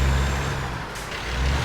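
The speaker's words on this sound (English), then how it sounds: "we got a working Jake brake. But it sounds like an exhaust brake." A Peterbilt 386 truck in American Truck Simulator runs its engine brake with a deep, rumbling exhaust drone that briefly dips and returns, loud and steady throughout a short burst.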